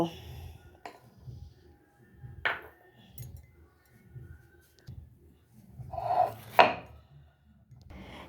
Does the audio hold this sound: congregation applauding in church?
no